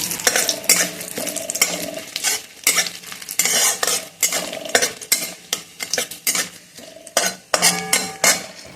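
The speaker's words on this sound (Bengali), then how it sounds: "গোটা গরম মশলা ফোড়নে দিলাম তারপর ওই যে কিশমিশগুলো ছিল আর এই যে তেজপাতা দিয়ে দিচ্ছি" Whole garam masala, raisins and bay leaf fry in fish oil for posto kalia, with a low sizzle beneath close, rhythmic stirring scrapes and metal utensil clinks against the pan.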